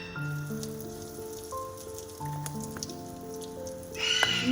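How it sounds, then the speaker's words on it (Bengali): Asafoetida drops into hot oil for a vegetarian moong dal tempering, giving a soft, even sizzle and light crackle under faint steady tones, growing louder and busier near the end. "আমি তেলের মধ্যে প্রথমেই একটু হিং ফোড়ন দিচ্ছি।"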